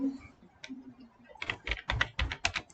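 Keys clatter on a computer keyboard as a short command is typed, a quick cluster of close, crisp taps following a few faint clicks, with no voice over them.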